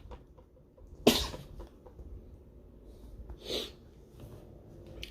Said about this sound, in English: sneeze a lot